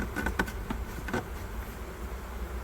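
Bees hum and buzz around an open hive during a spring inspection after the cold has ended. The steady insect drone fills the background, and a few louder individual buzzes pass close by. No one speaks.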